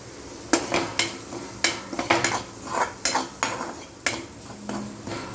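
A spoon stirs red chilli flakes into pizza sauce in a pan, scraping and knocking against the metal in a string of sharp, irregular clinks and clatters over a low background hiss.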